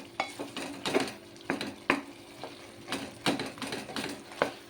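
Mutton coated in ginger-garlic paste is stirred in a pan, a steady run of close scraping strokes and metal clinks in an uneven rhythm over a soft sizzle, with no voices.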